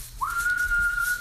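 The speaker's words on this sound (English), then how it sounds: "Outside the forest, Gandalf whistles piercingly." A single piercing whistle from the wizard Gandalf outside a forest, sliding up sharply and then holding one steady, shrill note for about a second, loud and alone over a quiet background.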